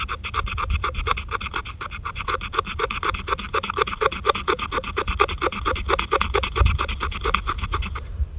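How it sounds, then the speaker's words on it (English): A saw's back edge scrapes fatwood at a camp in a steady, rapid rhythm of rasping strokes, roughly two or three per second, loud and close for about eight seconds with no talking. "using the back of the saw and scraping the fat wood"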